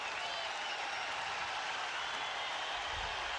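A sellout baseball crowd at Fenway Park, Royals at Red Sox, roars steadily throughout, a dense, continuous wash of cheering and clapping that stays loud without a break.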